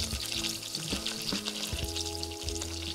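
Cubed onions frying over medium heat with cinnamon and bay leaf for a butter chicken gravy, a dense, steady sizzle up close with a few soft stirring clicks.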